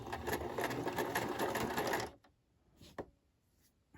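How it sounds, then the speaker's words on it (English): A sewing machine backstitches a seam on a small micro tote bag, running in a steady close, loud burst for about two seconds before stopping, followed by a couple of faint clicks and handling sounds. "This time you're gonna backstitch."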